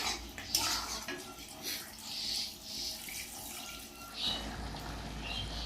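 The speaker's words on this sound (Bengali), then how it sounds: "জল দিয়ে দেবো" Water pours into a pot of village-style chicken curry, giving a steady, moderately loud rushing splash with a few clinks of the pot, and no talk over it.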